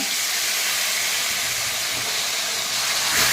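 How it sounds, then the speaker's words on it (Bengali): Taro leaves hit a pan where a fish head has been frying in oil, giving a loud, steady, close sizzling hiss that swells slightly near the end. "এখন আমি দিয়ে দেবো যে কচুর শাকটা"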